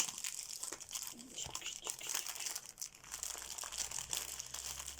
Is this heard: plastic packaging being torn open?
yes